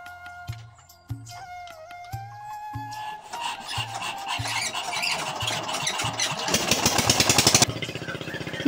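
A motor-driven water pump drains the last water from a village fishing pond. It starts with slow, regular thumping pulses, then builds into a loud, harsh, rattling run close by, with no talk.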